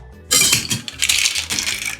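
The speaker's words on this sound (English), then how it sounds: "Fill the shaker with ice" Ice tumbles loudly into a cocktail shaker, a sudden clattering rush of cubes followed by scattered rattles and clinks as they settle, close and without talk.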